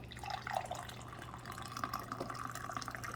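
Coffee pours from a Hamilton Beach FlexBrew or Keurig K-Duo Plus K-cup maker in a soft, steady trickle and drip of liquid into a cup, heard close and fairly quiet over a low machine hum.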